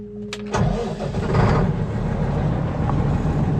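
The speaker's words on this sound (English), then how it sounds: "I can't get over how nice it is to have that electronic starter motor." A farm machine's engine cranks briefly on its electronic starter motor, then catches and settles into a steady, loud mid-pitched idle close by, heard during a Western Australian harvest.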